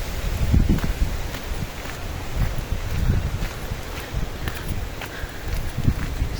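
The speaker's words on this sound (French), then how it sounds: "Regardez le vent." Wind gusts buffet the microphone on a beach in the evening, with low rumbling blasts and faint rustling that rise and fall in uneven pulses.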